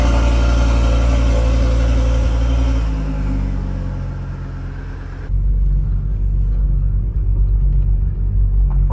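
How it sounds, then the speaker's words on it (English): Engines of Audi RS3 cars and other cars rumble and rev loudly out in mountain woods, with a steady low drone that drops briefly and then surges back, echoing off the surrounding slopes. "gonna miss all these car sounds bouncing off the mountains"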